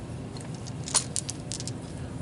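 Tabletop role-playing dice being handled give a few faint, light clicks and rattles, with a clearer clack near the middle, over a quiet room background.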